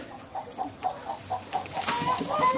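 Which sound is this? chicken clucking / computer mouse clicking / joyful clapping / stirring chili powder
chicken clucking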